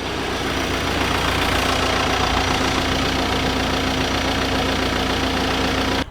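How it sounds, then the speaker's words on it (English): A VW MK4 Golf engine idles close by, a loud, steady mechanical drone with a faint ticking texture that holds even and unbroken throughout. "It starts and idles quite well actually."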